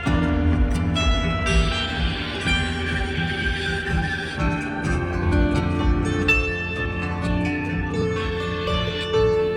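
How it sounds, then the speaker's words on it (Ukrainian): A bandura plays a full, ringing melody of plucked strings with layered bass and treble notes, steady and close, with no voices. "Це бандура, народ. Як бандура може звучати?"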